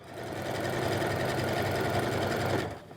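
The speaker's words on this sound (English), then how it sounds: "we're just going to do a straight stitch all the way around the hem of the skirt" A sewing machine runs a straight stitch around the hem of a simple A-line skirt, a steady continuous whirring hum close up that holds for nearly three seconds before stopping, with no talking.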